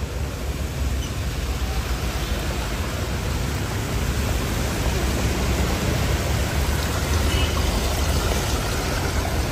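Heavy rain pours steadily over a flooded Roxas Boulevard service road in Manila, a dense, unbroken hiss with no gaps, loud and close.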